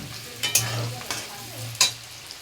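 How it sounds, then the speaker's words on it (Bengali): Onion frying in a pan until reddish-brown, a low sizzle broken by a few sharp scraping stirs of a spatula, close and alone. "দেখো পেঁয়াজটা আমার লালচে লালচে করে ভাজা হয়ে গেছে।"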